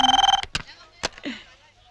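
Telephone bell ringing in short rapid pulses at the start, then breaking off, followed by a few loud vocal bursts and sounds close by.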